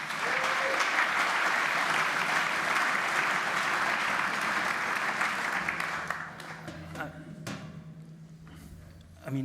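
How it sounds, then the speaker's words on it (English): Sustained audience applause at a talk by Russell Shorto on Manhattan history, loud and dense for about six seconds, then thinning into scattered claps, shuffling and murmurs as it dies away. "Give him one more round of applause"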